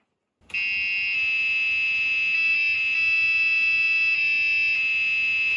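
An Agon Light computer's sound chip plays Amazing Grace in loud, steady buzzy tones, the notes changing every second or so after an abrupt start.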